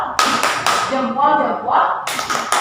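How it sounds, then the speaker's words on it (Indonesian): A classroom doing a rhythmic chant-clap, sharp bursts of claps separated by children's chanting voices, close and loud. "Kasih tepuk jempol dong"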